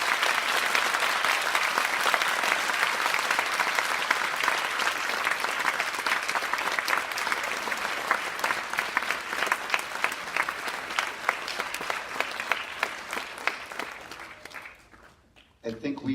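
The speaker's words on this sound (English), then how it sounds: "could we give the Wolnermans a DCG round of applause for coming here?" Students at DC-G Meadows break into loud, sustained applause with steady dense clapping that carries on for many seconds before tapering off.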